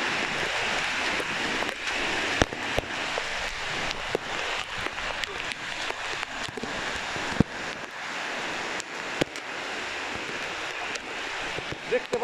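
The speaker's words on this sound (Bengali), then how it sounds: "দেখতে পাচ্ছেন প্রচন্ড বৃষ্টি," Heavy rain pours down outdoors on a waterlogged road, a steady close hiss of downpour broken by scattered sharp drop impacts throughout.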